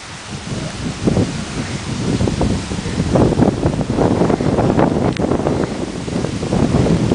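Strong wind gusting during a tornado warning at Horseshoe Bay, roaring and buffeting the microphone steadily for the whole stretch, with rustling, surf-like swells and no voices.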